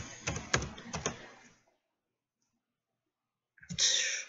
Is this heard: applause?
no